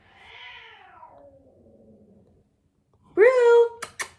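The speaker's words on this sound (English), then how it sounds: "it's my cat freaking out in the other room" A cat in another room lets out a long, drawn-out meow that slides downward, then a louder, sharper meow followed by a couple of brief bursts.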